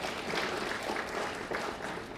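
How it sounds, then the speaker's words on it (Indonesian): A large audience at a formal government event applauds the regional heads, a faint, steady, distant patter of clapping that continues throughout. "tepuk tangan untuk para kepala daerah"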